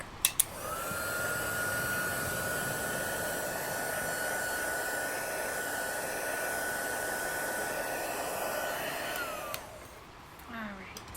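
A heat tool blows steadily for about nine seconds, melting embossing powder on stamped letters for an Earth Day card, with a sharp click at the start and the whine cutting off near the end.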